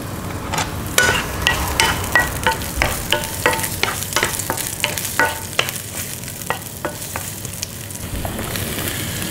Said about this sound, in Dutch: En die peper, gember en knoflook erin doen. Een paar seconden laten bakken.